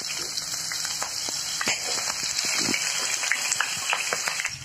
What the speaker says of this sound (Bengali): প্রথমেই আমি এখানে কিছুটা সয়াবিন অয়েল নিয়ে নিয়েছি। এবার আলু আর পটলটা দিয়ে দেব।